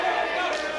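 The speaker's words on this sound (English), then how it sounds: "And now the crowd chanting that Stetson spends a lot of lonely nights alone at home." Wrestling crowd at a Wrestling Open show chanting at Steven Stetson during his match with Jora Johl, a loud, dense wall of massed voices in a short burst.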